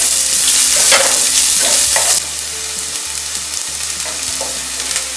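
Onion sautéing in a pan until translucent, with a loud, continuous close sizzle and occasional stirring clatter. The sizzle drops noticeably softer about halfway through, and no one speaks.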